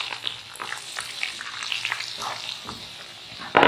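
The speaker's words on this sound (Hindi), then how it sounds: "हमने घी में बेसन को इतनी देर भूनना है कि इसमें से अच्छी सी खुशबू आने लगे" Gram flour roasting in melted ghee for besan halwa, a soft crackling sizzle with light scraping stirs, ending in a louder burst of noise.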